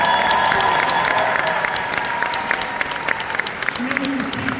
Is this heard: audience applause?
yes